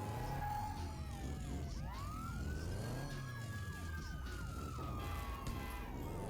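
A fire truck siren in the San Francisco Rush 2049 Tournament Edition arcade racing game wails in long rising and falling sweeps over a constant engine rumble, loud and continuous throughout.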